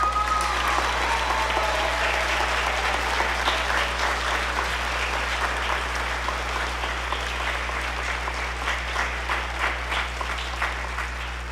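A school spring band concert audience claps steadily and fairly loud, a broad sustained wash of applause with a low hum underneath throughout.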